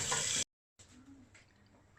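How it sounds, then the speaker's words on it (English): Cold water is poured onto boiled eggs in a kitchen: a short, steady splashing rush, a brief silence, then a fainter trickle and patter at close range. "we just put cold water in the eggs"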